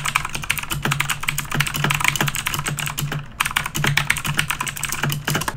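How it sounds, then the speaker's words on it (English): Rapid, continuous clacking of keys on a loud aluminum mechanical keyboard, dense and close, with a brief pause partway through before the typing resumes. "you're typing without headphones, because then the sound just rings in your ear"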